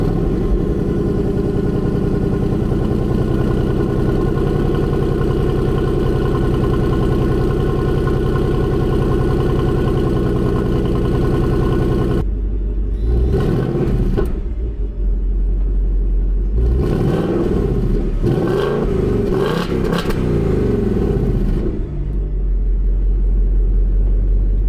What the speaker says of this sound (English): So let's see how that stock exhaust sounds.